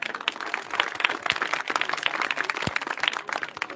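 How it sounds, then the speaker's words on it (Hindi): Audience at a Republic Day function claps steadily and fairly faintly, a dense patter of hand claps from a moderate distance with no voices over it. "एक बार जोरदार तालियों के साथ स्वागत कीजिए हमारे बड़े भाई आदरणीय श्री ज्ञान प्रकाश भैया"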